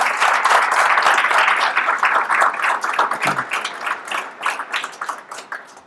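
A church congregation claps together in sustained applause during a morning service that gradually thins into scattered, uneven claps toward the end, with some voices faintly mixed in.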